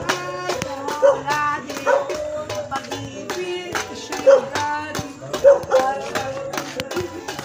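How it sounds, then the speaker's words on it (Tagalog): A dog barks repeatedly outside a house, sharp and fairly close, in irregular bursts among other nearby noise. "Uy, aso."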